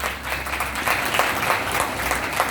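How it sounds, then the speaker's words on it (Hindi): Audience in a Radisson Blu hotel seminar hall applauding loudly, steady dense clapping filling the whole moment, close and continuous. "कुलदीप सिंह जी के लिए एक बार जोरदार ताली बजाइए।"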